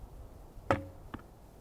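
A barebow arrow shot from 20 yards lands in a target with one sharp, loud thwack, followed by a fainter second knock about half a second later, set against quiet outdoor background.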